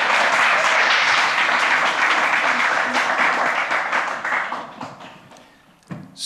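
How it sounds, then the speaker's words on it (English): Audience at a live Edinburgh festival programme claps in a dense, lively round that holds steady, then thins out and fades over the last seconds, ending with a soft thump. "Round of applause, everyone."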